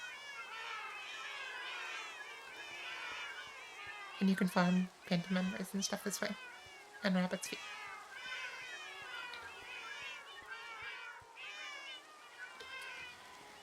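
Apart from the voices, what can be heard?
many cats meowing in Minecraft video game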